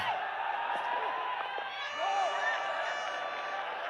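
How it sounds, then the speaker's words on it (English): Crowd at a cricket ODI between Nepal and Oman at the TU ground in Kathmandu cheering after a six, a steady roar of whoops and shouts sustained at moderate level across the whole span. "Delight in the crowd"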